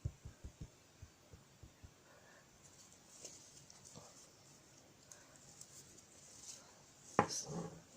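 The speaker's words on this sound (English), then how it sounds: "I knock my finger on it, and you can feel it's like a drum head" A finger taps on fabric stretched tight in an embroidery hoop, giving a quick series of soft, drum-like thumps close by that slow and fade, followed by faint rustling.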